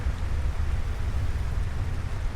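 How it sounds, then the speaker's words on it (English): Steady rain drumming on a roof during a fight in Final Fantasy XVI, a dense continuous wash with a heavy low rumble and no voices. "Let's have a rain on the roof while we fight."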